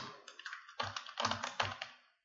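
Keystrokes on a computer keyboard while entering a heading in InDesign CC 2020, coming in three quick bursts of close, crisp clicks with short pauses between them.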